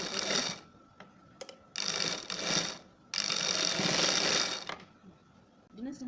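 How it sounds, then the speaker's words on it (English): Sewing machine stitching diagonally across the V neckline of a kaftan dress, running in several close bursts of rapid mechanical whirring separated by short pauses. "I'm just going to stitch this place diagonally."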